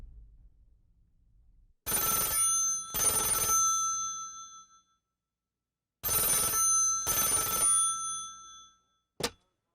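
A telephone rings for a call to the Harrods department store in London, two bursts of the classic double ring, loud and close, separated by a silent pause and followed by a brief click.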